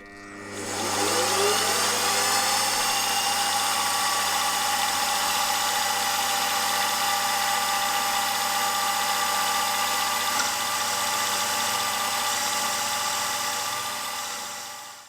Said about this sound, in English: I've got an 11mm slot drill and I'm going to cut to a depth of 9mm.